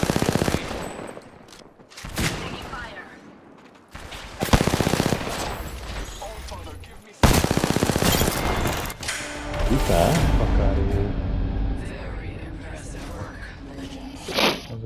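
Bursts of automatic gunfire and single shots ring out during an arena match in a video game, loud and sharp, separated by gaps and mixed with mechanical clicks and background game noise.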